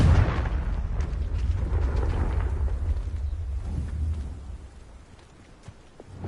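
Confringo spell blast in Hogwarts Legacy, a loud rumbling explosion that hits at once and rolls on with a deep boom, then slowly fades to quiet before a small pickup at the end.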